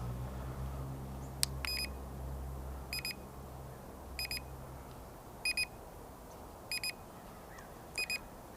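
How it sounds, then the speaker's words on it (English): Short electronic double beeps from an SJRC Z5 drone transmitter while recording video repeat at steady intervals of a bit over a second, crisp and high-pitched over a low hum. "So the transmitter beeps when you're recording video when you press the button on the transmitter."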